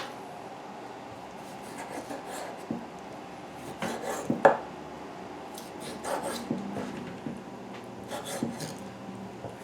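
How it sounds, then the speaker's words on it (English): A knife slices pork meat into one-inch cubes for breaded shish kebab sticks. Soft, irregular cutting taps and scrapes are spread across the clip, with one sharper knock near the middle. No one speaks. "Now I'll cut that up into 1-inch strips,"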